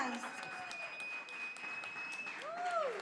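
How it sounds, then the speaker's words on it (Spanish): Audience applause at a live comedy show in Zacatecas: steady clapping with a few whistles near the end, and voices talking over it throughout. "Así es que nuevamente, aplausos, César, papá, gracias."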